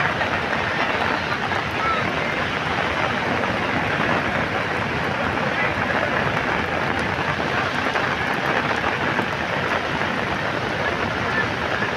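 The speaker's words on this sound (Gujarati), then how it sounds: "લગભગ સવારના સાત વાગ્યાથી વરસાદ ચાલુ છે અને ત્રણ કલાક થઈ ગયા વરસાદ" Heavy monsoon rain pours steadily beside a flooded river, a dense, even roar of falling water with no breaks, and someone talks faintly beneath it.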